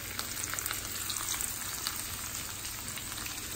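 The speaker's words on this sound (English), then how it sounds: "Our chorizo is cooking." Chorizo and diced potatoes fry in a pan with a steady, even sizzle that holds close and fairly loud for the whole stretch, with no voices over it.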